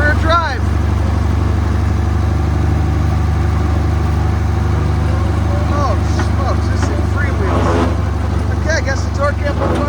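1975 International Harvester 666 tractor engine while driving, a loud steady low-pitched diesel drone with a constant throb throughout and someone talking over it.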